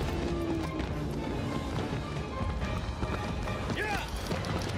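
A horse gallops with rhythmic hoofbeats in the Shadow of the Colossus video game, under a player's excited talk and a brief game sound effect.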